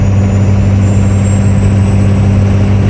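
A diesel tow rig truck pulls a skid steer uphill at highway speed, its engine giving a steady, loud, low drone with a constant faint high whine above it, continuous and unbroken, heard without speech.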